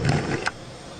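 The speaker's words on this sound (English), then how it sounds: "That was the crocodile growling." Crocodile growl played from a screen, a short loud rumbling roar with a sharp burst near the end, then quiet room hiss.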